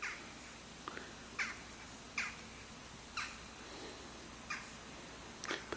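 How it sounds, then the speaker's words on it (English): Several short, faint bird calls spaced a second or so apart over a quiet outdoor morning background in Westhill, with no talking. "You can hear the birds."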